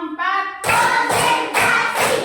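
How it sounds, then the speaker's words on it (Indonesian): A class of pupils claps in unison along to a teacher's count, four loud, evenly spaced group claps close by, the first preceded by a brief spoken count. "Tepuk 1, tepuk 2, tepuk 3, tepuk 4"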